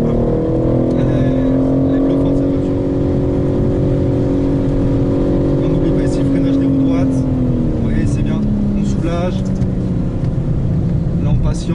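A race car on a track holds a loud, steady engine note that drops as it brakes, then climbs again under acceleration, close and continuous, with someone talking over it.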